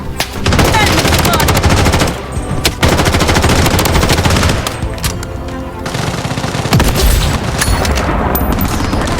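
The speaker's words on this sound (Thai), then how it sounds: "มีเสียงปืน" Rapid, loud gunfire fills a first-person shooter match in the video game Blood Strike, with sustained automatic bursts and a few brief pauses running nearly the whole time.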